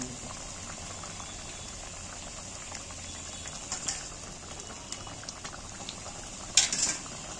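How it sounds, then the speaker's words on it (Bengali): A pot of hilsa fish curry boils steadily with a soft, continuous bubbling hiss, a couple of sharper clinks or splashes rising briefly near the end. "মাছের ঝোল ফুটছে"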